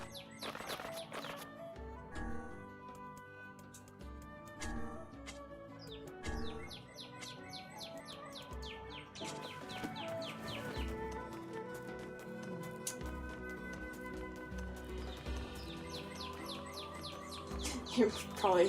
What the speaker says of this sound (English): You probably hear the birds outside.